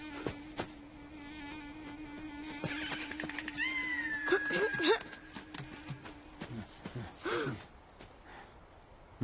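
Cat meows in a Fortnite match sound among game effects and background noise, with a few short rising calls around the middle of the stretch and more near the end, the whole mix fairly quiet.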